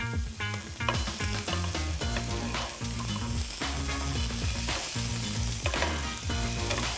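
Spinach-and-cheese-stuffed chicken breast browns in a hot pan, a steady sizzle running under prominent rhythmic background music for the whole stretch.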